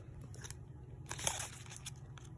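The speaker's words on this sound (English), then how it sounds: "So with the scissors, you're going to cut along the edge." Scissors snipping along the edge of a paper wrapper while making a homemade Reese's cup, a run of close, crisp little cuts with one louder crunching snip in the middle.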